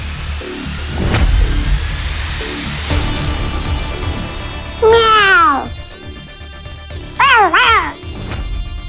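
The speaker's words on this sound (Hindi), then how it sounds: "बिल्ली थी बिल्ली, 9 जिंदगियां लेकर पैदा हुई।" A cat meows twice in a drama scene, two loud, clear rising-falling cries several seconds apart, heard over a background of car engine noise and low rumble.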